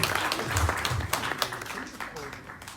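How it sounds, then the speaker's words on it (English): Party guests at a 40th birthday celebration applaud together, a steady patter of many hands clapping with chatter and voices mixed in throughout, fairly close and lively. "Let's give a round of applause"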